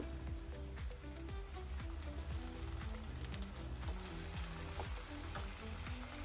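Ginger garlic paste hits lightly browned onions in a pan with a soft, continuous sizzle and patter of tiny pops, faint and steady, with low bubbling underneath and no voices.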